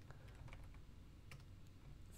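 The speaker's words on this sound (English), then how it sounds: "I picked a silent keyboard because I hammer away at my keys." Quiet, rapid typing on a silent computer keyboard, soft muffled keystrokes clustering in quick bursts under a faint steady room hum.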